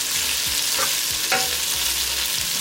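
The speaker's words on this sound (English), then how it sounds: "I am going to add my cabbage into my wok. I'm going to give that a good stir." Meat and cabbage stir-fried in a wok for chop suey, a steady broadband sizzle with a few scraping stirs of the utensil against the pan, close and continuous.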